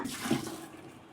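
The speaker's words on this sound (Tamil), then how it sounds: "இதில் ஊற்றுறேன் பாருங்க." A short splash of fruit juice being poured into a container, with a brief gurgling burst near the start, then fading.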